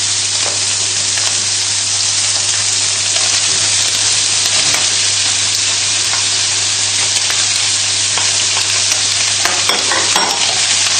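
Mushrooms and garlic fry in oil in a pan, a loud, steady sizzle filling the whole stretch, with faint scrapes of stirring scattered through it and no talk.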